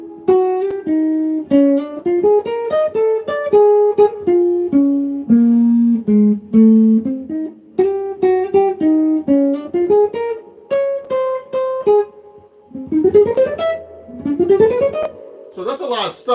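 A jazz tune played slowly on a single melodic instrument, a close, clear line of stepwise notes with brief gaps and a few quick sliding runs near the end.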